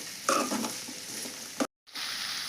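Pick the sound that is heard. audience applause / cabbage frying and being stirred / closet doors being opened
cabbage frying and being stirred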